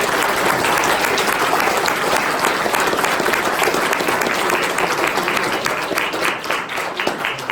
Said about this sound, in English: I'll just ask everybody to give these guys a round of applause.